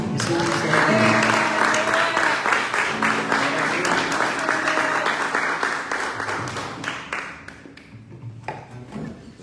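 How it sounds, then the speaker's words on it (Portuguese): A church congregation claps in praise, loud and close at first, then thinning and fading toward the end as fewer hands keep going, with faint voices mixed in. "Que as palmas louvem ao Senhor."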